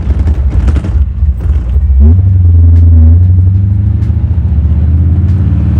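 A 1932 Ford hot rod with a big-horsepower engine revs hard while pulling away from a parking lot, a loud close rumbling roar that swells and holds, steadying into a deep sustained drone.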